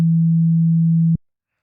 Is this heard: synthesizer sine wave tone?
yes